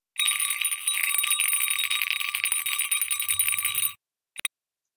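A bright, bell-like notification chime, the kind used in online tutorials, rings out steadily and fairly loud for about four seconds, then stops abruptly, followed by two brief clicks.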